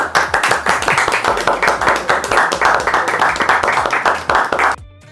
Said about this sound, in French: on va quand même s'applaudir encore